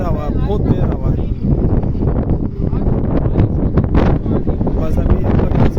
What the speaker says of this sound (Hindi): बहुत तेज़ हवा, बहुत तेज़ हवा है।